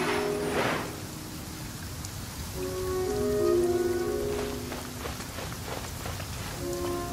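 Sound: rain falling in the video game Genshin Impact

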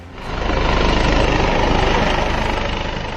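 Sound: helicopter of chief minister arriving

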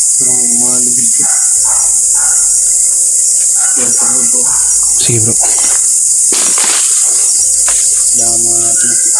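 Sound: dog barking at night among chirping crickets

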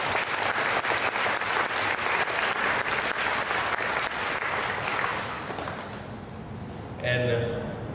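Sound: applause for the maker of the floating Christmas crib

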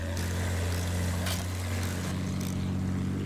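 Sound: airplane engine in the video game Battlefield 1

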